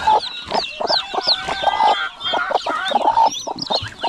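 Hens and small chicks on a farm, steady overlapping clucks and high peeping close by, loud and continuous with short rhythmic calls and no talking.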